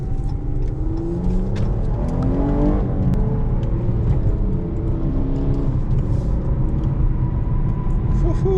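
A Dodge Charger engine rumbles and revs loudly during a street race, a deep continuous drone with rising pitch sweeps as it accelerates, close and strong throughout.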